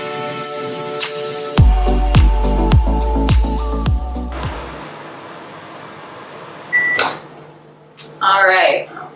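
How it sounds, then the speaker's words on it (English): A microwave oven heating oatmeal gives a steady hum, broken by a run of sharp clicks and thumps and then a few beeps near the end; a voice speaks briefly. "It really just depends on the strength of your microwave"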